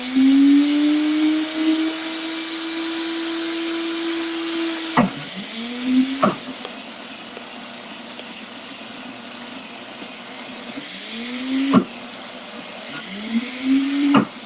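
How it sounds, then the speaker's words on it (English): A kitchen blender grinds almonds into almond butter with a steady whirring motor hum, broken by a few sharp stops and restarts where the pitch drops and climbs again. "maybe it is my blender"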